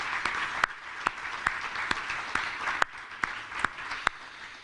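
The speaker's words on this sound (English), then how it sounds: "Let's give him and the team a round of applause." A round of applause from an audience at a county budget announcement, sparse scattered clapping with a few sharp individual claps, fairly faint and distant.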